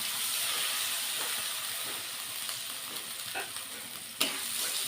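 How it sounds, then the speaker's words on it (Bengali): Spice paste with salt and a splash of water sautés in a pan, giving a steady close sizzle broken by soft stirring scrapes and one sharp clink near the end. "এবার আমি মশলাটা সুন্দর করে কষিয়ে নেব"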